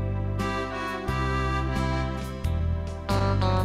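A polka taken at a slow tempo over a steady country backing beat, with sustained chords and a low bass line shifting every second or so, played alone with no talking.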